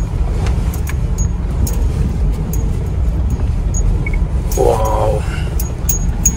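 A car off-roading along a muddy rural track, its engine and tyres making a steady, close rumble that runs the whole time with no voices.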